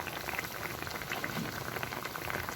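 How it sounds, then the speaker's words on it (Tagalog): Fish paksiw made with bigeye scad, seasoned with fish sauce and a chili, bubbles steadily at a rolling boil in a pot, a close, continuous crackle and pop with no talking. "Kumukulo na."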